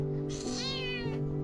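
A small kitten meows in a village home, one drawn-out, rising then falling mew that sounds close and clear, with no talk over it.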